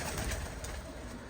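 Pigeons coo softly in a low, murmuring flock amid steady outdoor background noise.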